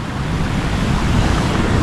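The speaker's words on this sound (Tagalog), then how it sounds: "Lakas pa rin ng alon" Strong sea waves surging against a fishing spot on the Australian coast, a continuous loud broadband wash of surf with wind noise throughout, no speech.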